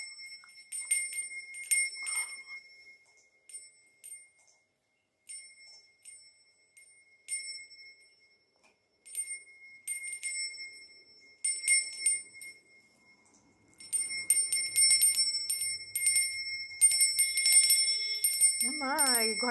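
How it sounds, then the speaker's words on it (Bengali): A toy gift rings like a puja bell in repeated bright, metallic bursts with short pauses between them. It is close and clear, and a brief voice is heard at the end. "পুজোর সময় যে ঘন্টাটা বাজায় ওই রকমই সাউন্ডটা"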